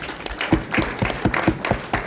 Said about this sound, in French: Merci de vous asseoir sous vos applaudissements